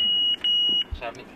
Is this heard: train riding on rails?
no